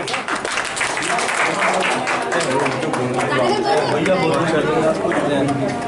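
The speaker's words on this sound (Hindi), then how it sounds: "तालियां जोरदार तालियां होना चाहिए।" Audience applause at a monsoon poetry gathering in Nagda: a steady, dense wash of clapping that lasts throughout, mixed with loud crowd chatter and voices.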